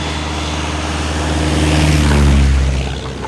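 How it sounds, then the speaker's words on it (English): A propeller crop-dusting airplane drones overhead spraying a plantation, growing louder as it approaches and passes, then fading slightly; a low, steady engine hum dominates. "to spray these chemical products, not just on the ground, but also by plane, crop dusting"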